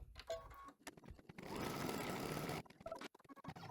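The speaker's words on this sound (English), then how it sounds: "I'm going to tack that fabric down." An embroidery machine stitches a tack-down line on fabric held in a hoop, giving a brief run of fast, even mechanical chatter between quieter handling sounds.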